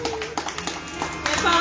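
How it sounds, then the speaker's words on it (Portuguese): Guests at a fifteenth birthday party clap in short, close, uneven bursts, with talk in the background. "Pode bater palmas aí, pessoal."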